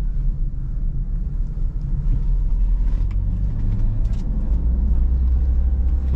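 A car engine rumbling low and close as the driver accelerates and shifts into second gear, a steady deep drone with a slight rise in pitch partway through and no talking over it.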